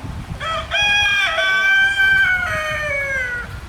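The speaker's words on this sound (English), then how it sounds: "Jericho went up there and got that Banny rooster and hen and brought them back down here" A bantam rooster crows on a farm, one long clear cock-a-doodle-doo near and loud, with a faint cluck or second call at the end; no one speaks.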